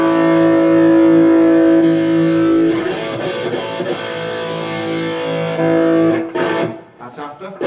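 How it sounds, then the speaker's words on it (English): Electric guitar run through an overdrive pedal boosting a distortion pedal: a sustained, loud distorted chord that rings out and decays, then a few shorter strummed hits at the end. "at the moment it's boosting the distortion pedal and changing the tonality a certain way"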